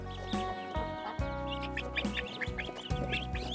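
Newly hatched ducklings, self-hatched on a rural farm, cheep in a steady high-pitched chorus of short repeated peeps, close by, with low rumbling background noise and no talk.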